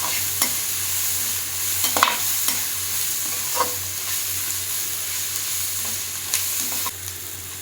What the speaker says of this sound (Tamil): ஃப்ரை ஆகிட்டுட்டே குடமிளகா சேர்க்குறேன். குடமிளகா ஒரு நிமிஷத்தில் ஃப்ரை ஆயிரும்.